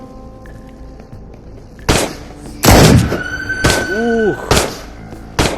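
Shotgun blasts in the VR game Into the Radius: several loud, close booming shots spaced irregularly over a quiet hum, mixed with mechanical clacks of reloading and a brief exclaimed voice.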